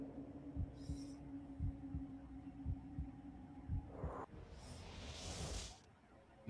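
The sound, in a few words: heartbeat sound effect in the video game Psi-Ops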